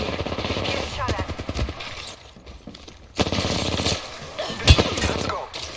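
Rapid bursts of automatic gunfire in the video game Apex Legends, fast rattling volleys that pause and resume, mixed with in-game character voices.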